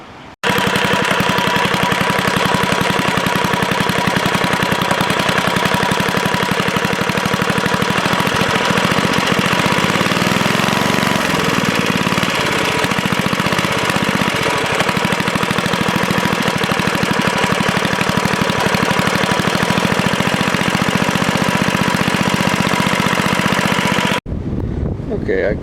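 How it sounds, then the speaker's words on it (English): A 1970 Rupp minibike's small engine idles loudly and close, a continuous rapid chugging that stays fairly high, running steadily for over twenty seconds before cutting off near the end. "I got it idled all the way down now and the idle actually still seems too high."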